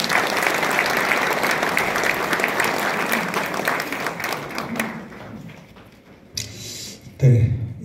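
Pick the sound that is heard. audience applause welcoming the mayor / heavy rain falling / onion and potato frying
audience applause welcoming the mayor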